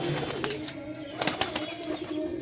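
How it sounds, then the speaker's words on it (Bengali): Giribaj high-flying pigeons coo softly in a loft, with low, throaty repeated calls mixed with a few brief wing flutters and rustles, all fairly faint and close. "অন্যান্য দিকে আরও পায়রা আছে"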